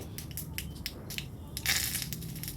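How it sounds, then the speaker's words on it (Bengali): Mustard and cumin seeds splutter in hot oil, a crackling, sizzling patter that swells midway into a denser burst of popping, close and steady with no talk. "সর্ষে আর ফোড়ন সুন্দরভাবে ফেটে উঠলে"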